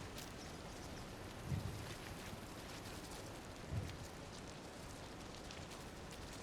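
Rain falls in the video game Disney Dreamlight Valley as a soft, even hiss that runs without a break, with two dull low thumps under it and no talking.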